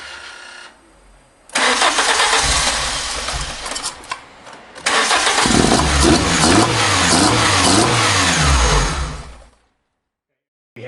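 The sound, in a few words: car engine starting after throttle body kit installation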